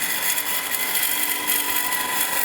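Lathe tool cutting maple wood while turning a hollow vessel, a steady close whirring scrape with a faint rhythmic flutter, unbroken throughout.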